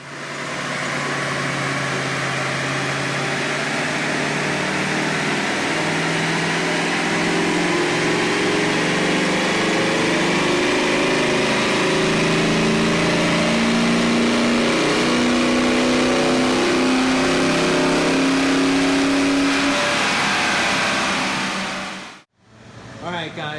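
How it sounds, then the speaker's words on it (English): A 1995 Ford F150 engine fitted with a K&N air filter revs steadily on a dyno, its pitch climbing smoothly for about twenty seconds in one loud continuous pull before it cuts off abruptly. "we're going to rev up the dyno and start test number 2"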